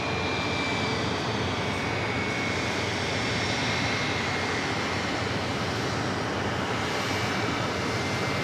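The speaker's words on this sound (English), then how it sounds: "How'd I know it was you, Mr. Airbus A220-300?" An Airbus A220-300 airliner taxiing at New York JFK gives a continuous loud engine rush with a thin steady whine on top, unbroken and close, with no talk.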